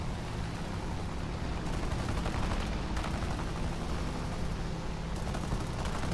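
Gunfire in the War Thunder air battle game, a continuous dense rattle of rapid shots layered over a steady engine-like roar, fairly quiet and unbroken throughout.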